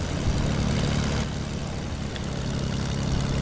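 Airplane engine in Fortnite, a loud, steady propeller drone close by for a few seconds, with no voices.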